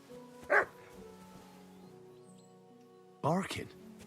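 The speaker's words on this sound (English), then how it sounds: "Barking." A dog in Kingdom Come: Deliverance 2 gives two short, loud barks about three seconds apart over a low, steady game ambience.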